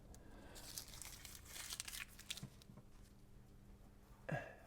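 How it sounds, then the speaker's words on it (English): Adhesive tape is peeled off a Mini Cooper R53 part in close, faint crinkling and tearing bursts, with a sharper rip near the end. "we're going to come in and take the tape off it"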